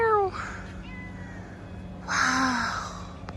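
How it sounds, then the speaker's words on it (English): Several cats meowing close by in a cat café on Phi Phi Island, two distinct meows, one at the start and another about two seconds later, with quiet room noise between. "So many kitties!"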